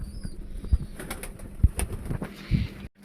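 Several sharp bursts of wing flapping from pigeons at close range, scattered over a few seconds among soft rustling and faint background chirps.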